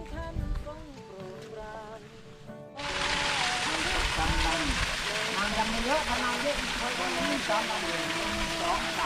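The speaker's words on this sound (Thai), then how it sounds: "อันนี้คือน้ำตกสามหลันนะครับ น้ำหลันซึ่งแปลว่าสามชั้นนี่เองครับ" Sam Lan waterfall, a three-tiered falls in Phanom Dong Rak wildlife sanctuary, roars in as a loud, steady rush of falling water after a few seconds of quieter outdoor sound with some talk.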